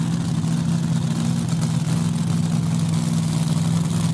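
A supercharged Hemi engine in a top alcohol dragster idles with a steady, deep, continuous rumble that holds an even drone throughout, close and loud, with no talking.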